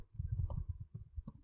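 Quick clicks of a computer keyboard being typed on, a close, uneven burst of keystrokes with short pauses between them and no voices.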